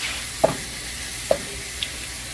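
Butter sizzles softly in a pot on the stove, a steady low hiss broken by three brief clinks or pops at uneven intervals, close by with no talking.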